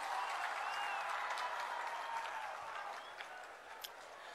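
Applause from the audience at a ministers' swearing-in ceremony in a Punjab village, a steady wash of many hands clapping at moderate distance that slowly fades toward the end.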